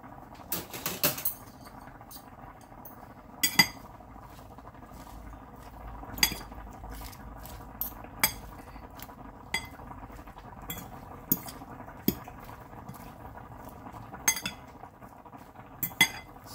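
Vegetable salad with cucumber being mixed with mayonnaise using utensils; quiet, scattered clinks and scrapes of metal against a bowl recur irregularly, close by with no talk.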